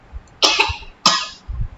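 Two sharp coughs from a boy, close to the microphone, the second following about half a second after the first, with a faint short sound after them.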